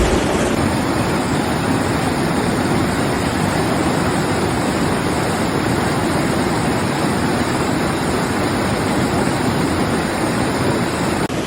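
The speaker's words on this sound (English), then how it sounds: "There is a lot of water coming down there." Powerful waterfall with a heavy volume of water pouring down, heard up close as a loud, unbroken roaring rush that stays constant throughout.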